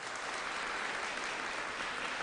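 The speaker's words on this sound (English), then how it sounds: "The applause, Tommy." Steady applause from a studio audience welcoming the start of a talk show episode, dense and continuous, with no voices over it.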